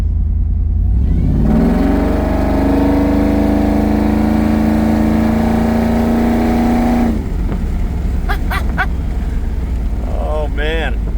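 A supercharged Ford SVT Lightning truck with a built motor makes a half-throttle pull. The engine roar and whine climb steadily in pitch for about six seconds, then cut off as the throttle lifts, followed by a few faint chirps.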